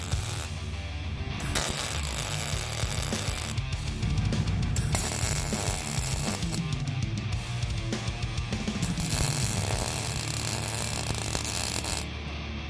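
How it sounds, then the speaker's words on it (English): Welding inside a galvanized steel pipe produces a close, harsh, crackling sizzle in several bursts separated by brief pauses, the arc sputtering and popping irregularly throughout. "we'll be able to lay a nice little weld on the inside here and make that super solid"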